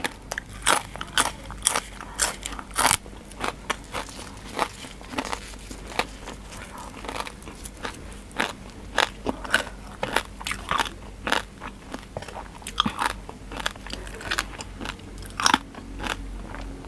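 Crispy fried pork leg is bitten and chewed up close, giving sharp, irregular crunches and crackles that repeat throughout over a quiet background.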